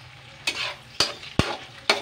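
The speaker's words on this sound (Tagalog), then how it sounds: "Lutuin muna natin itong malunggay" Moringa (malunggay) leaves frying in a pan for an omelet, a soft steady sizzle broken by four sharp spatula knocks at roughly half-second intervals, close by with no speech.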